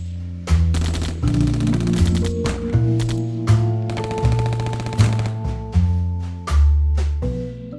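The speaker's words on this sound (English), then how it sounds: "As the echoes of gunfire faded away in the quiet Northwoods" Sustained gun battle sound effect with loud bursts of machine-gun and rifle fire echoing between shots, recalling the Dillinger and Baby Face Nelson shootout at Little Bohemia Lodge in the Northwoods, with rapid volleys and heavy reverberant booms throughout.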